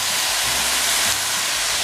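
Apple cider vinegar hitting a hot skillet of kale, a loud, close, steady sizzling hiss of steam that holds throughout.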